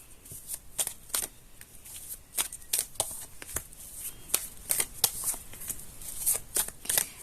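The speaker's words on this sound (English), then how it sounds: "while I'm shuffling the cards" Tarot cards are shuffled by hand in a quiet room, a close, soft series of crisp riffles and flicks repeating irregularly throughout.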